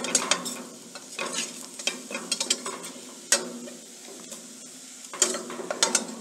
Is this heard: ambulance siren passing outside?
no